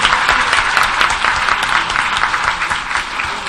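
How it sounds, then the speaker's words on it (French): An audience at a teachers' network gathering claps steadily in a dense, sustained round of applause, with no voices standing out. "Je veux que vous applaudissiez pour les femmes."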